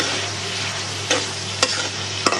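Red prawns fry in oil in a pan with a steady, close sizzle, broken by three sharp scrapes of a stirring spoon.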